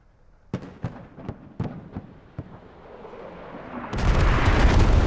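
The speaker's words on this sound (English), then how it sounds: "this artillery barrage, this is an Aussie artillery" An Australian artillery barrage rains down on a town in a military shooter game. Several sharp, distant booms land one after another at first, then swell into a loud, continuous roar of explosions near the end.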